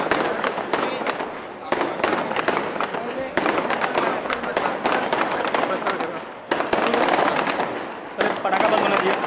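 Firecrackers burst at a Govardhan Puja celebration in Mira Bhayandar, a long, dense chain of sharp crackling bangs broken by a few short pauses, close and loud, with voices faintly underneath.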